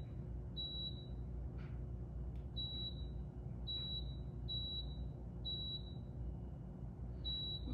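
A Power XL cooker's control panel gives a series of short, high electronic beeps, about six in all at uneven intervals, over a steady low hum as the slow-cook settings are entered.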